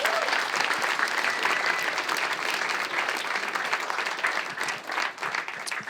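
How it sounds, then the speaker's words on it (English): A studio audience gives a sustained round of applause during a live election Q&A show, dense steady clapping filling the whole stretch without letup. "give them a big round of applause for that."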